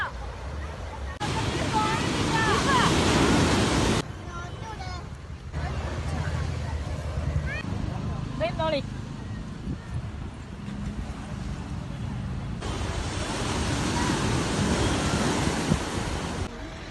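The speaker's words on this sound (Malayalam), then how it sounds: "ഭയങ്കര കാറ്റ്." Strong wind buffets the microphone at a beach, with surf roaring and muffled voices and crowd noise underneath.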